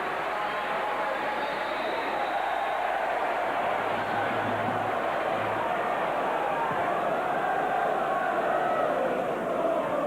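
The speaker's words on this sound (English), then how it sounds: "Very generous applause for the man going off." A football stadium crowd at a 1996/97 Derby County vs Everton match applauds a substituted player as he leaves the pitch, a sustained broad wash of clapping and crowd noise with a commentator talking over it.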